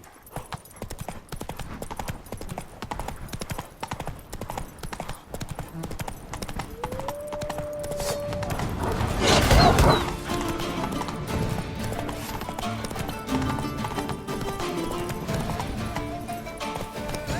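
Hooves of Roach, a horse in The Witcher 3 Blood and Wine, clip-clop in a steady rhythm, with a brief whinny and a louder burst partway through over game ambience.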